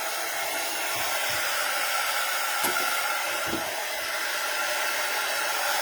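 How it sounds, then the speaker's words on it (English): A heat gun blasting hot air over a paper card, giving a loud, steady, even roar that runs throughout with only faint knocks beneath it. "Let's give it a quick blast with the heat gun if I can find it."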